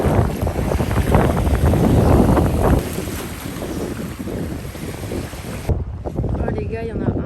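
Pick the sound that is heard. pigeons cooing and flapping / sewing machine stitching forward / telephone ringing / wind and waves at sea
wind and waves at sea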